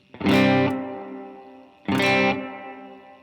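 An electric guitar runs through a plate reverb pedal set to a higher mix. Two loud distorted chords ring out one after another, each trailing a long, smooth decay.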